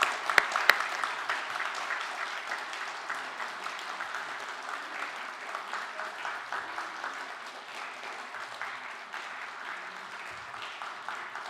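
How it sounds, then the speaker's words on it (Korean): A church congregation claps during a Sunday morning service farewell, a sustained, even patter of many hands heard at moderate distance, with a couple of sharp claps at the start and no talking. "자, 우리 박수로 가는 길을 축복하도록 하겠습니다."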